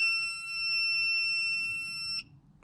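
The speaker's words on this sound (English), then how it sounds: "that annoying beeping sound" A steady, annoying electronic beep drones from a Ford Thunderbird during rear window restoration work, a continuous tone lasting about two seconds before cutting off abruptly, leaving faint background noise.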